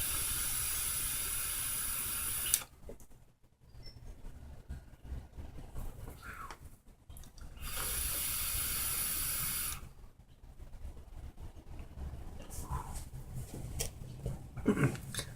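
Vapor is exhaled from a Lemo drop vape tank in long, breathy hissing blasts, three main bursts separated by pauses, close and fairly soft, with no speech.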